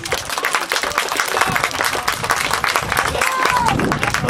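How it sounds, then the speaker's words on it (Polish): Crowd at an American football game between Wilki Łódzkie and Angels Toruń claps and cheers in a dense, steady wash, with scattered shouts and whistles over the noise throughout. "wielkie brawa po raz kolejny"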